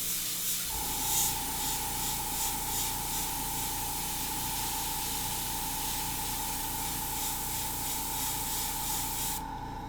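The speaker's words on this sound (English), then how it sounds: "then I'm just going to spray black" A can of black spray paint hisses continuously at close range over a stencil, a steady broad spray with a faint tonal whine, running unbroken for about nine seconds.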